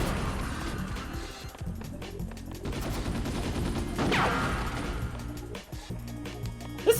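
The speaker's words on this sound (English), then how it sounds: "That's a shotgun." Shotgun fire in a video game, heard as a few loud blasts over dense, busy game audio with background music running throughout.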